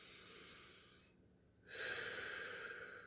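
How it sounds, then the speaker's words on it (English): A single deep breath, close and soft: an airy rush, a short pause, then a louder, fuller breath continuing to the end. "Deep breath."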